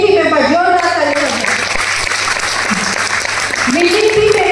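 A crowd at a business training event applauds the winning team, loud sustained clapping throughout with a voice talking over it.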